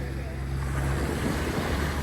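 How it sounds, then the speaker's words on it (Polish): Strong wind roars steadily across the microphone, mixed with rushing surf and water, a loud continuous buffeting with no pauses. "No, wiatr jest konkretny."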